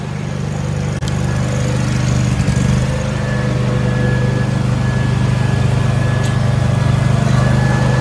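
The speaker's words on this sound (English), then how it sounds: "Finally get to use the generator welder for the first time." A Miller Trailblazer 302 Air Pack generator welder engine runs steadily nearby, a constant low droning hum with a faint whine, holding an even level throughout with no talk.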